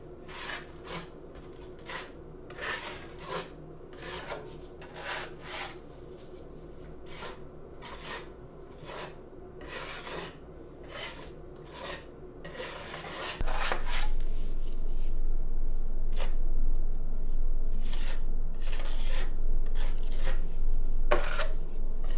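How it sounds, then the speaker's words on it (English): A second coat of concrete is spread over a countertop, steady rhythmic scraping and rasping strokes of a trowel, with a low background hum joining partway through. "let's jump in and add a second coat of concrete to this countertop."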